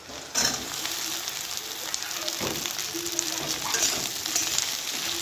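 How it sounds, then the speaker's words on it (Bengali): Steady, close sizzling of okra frying in a hot pan, a continuous crackling hiss with occasional stirring clicks. "ঢ্যাঁড়সগুলো একটু ভাজা ভাজা হোক।"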